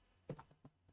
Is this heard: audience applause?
no